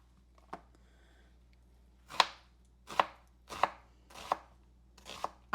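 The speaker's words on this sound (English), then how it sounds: "Then we're going to chop our onion." Knife chopping an onion on a cutting board, one early chop and then a run of five or six firm, evenly spaced chops, close and clear with no talking.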